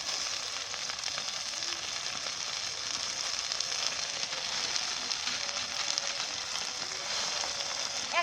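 Jute leaves frying in oil with onion and green chili, a steady dense sizzle that holds evenly throughout, close and fairly loud with no voices.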